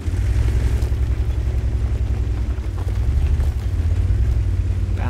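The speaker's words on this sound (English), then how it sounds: "Enemy WZ 132 firing." An enemy WZ-132 tank's gun in World of Tanks booms with a heavy low-end blast and rumble, layered over a constant droning engine rumble and occasional thuds.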